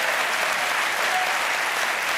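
A late-night talk show studio audience breaks into dense, steady applause, loud and even throughout with no pauses.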